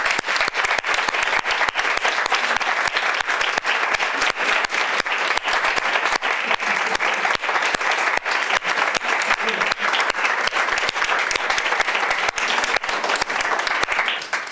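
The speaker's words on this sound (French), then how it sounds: "je suggère que pour commencer, nous les applaudissions tous." An audience applauds the poster prize winners at an academic awards ceremony, sustained and loud clapping from many people that keeps a steady, dense texture for the entire long stretch without letting up.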